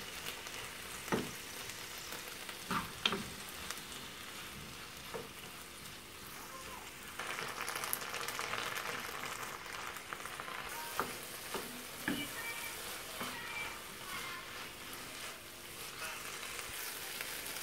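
Bell peppers simmer and sizzle in a frying pan with a steady crackling hiss, stirred now and then with a few clacks of a utensil against the pan, close by with no talk over it.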